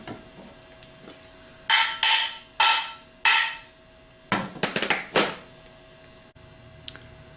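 A Valeo alternator rotor shaft tapped back into its bearing during a rebuild: about three sharp metallic taps, a pause, then a quicker cluster of lighter knocks, close and clear in a quiet workshop.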